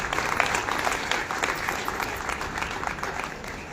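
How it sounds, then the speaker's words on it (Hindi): Steady applause from an audience at a parenting event, honouring the children's parents, a dense wash of clapping heard at moderate distance with no speech. "आज बच्चों के साथ अब उनके माता पिता के लिए जोरदार तालियां बजाएं"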